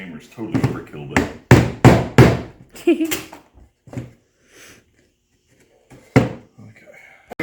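Several sharp, loud hammer blows in quick succession, then a lone strike later, with people talking between the hits.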